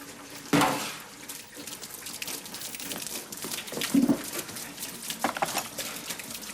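Water gushing and splashing from an opened household pipe during a botched do-it-yourself plumbing repair, a steady rushing and pattering flow with a few louder splashes, close and continuous throughout.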